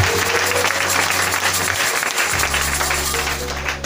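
A church congregation applauds at a Christmas service in Bregbo, Bingerville, with steady, dense clapping throughout and a low hum of sound underneath.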